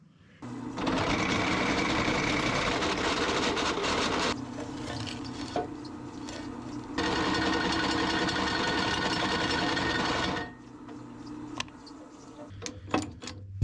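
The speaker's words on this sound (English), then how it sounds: "That's as slow as this drill press goes." A drill press bores through metal with a 1-inch bit at its slowest speed, giving two long, loud grinding, chattering runs separated by a brief lull, then a few sharp clicks and knocks as it stops.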